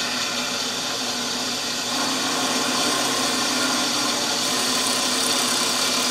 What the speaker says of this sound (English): Highest speed possible on the drill press.